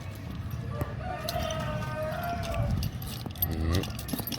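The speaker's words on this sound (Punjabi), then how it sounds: "ਮੁਰਗਾ ਬੋਲੀ ਜਾਂਦਾ" A rooster crows once, mid-distance, in a poultry coop bedded with straw, amid rustling, jangling keys and faint voices nearby.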